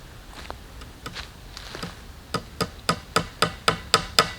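Hammer blows on wood and fasteners during pole barn construction, using a poor hammer. Irregular taps at first, then a steady run of sharp, evenly spaced strikes, close and moderately loud, with no talking.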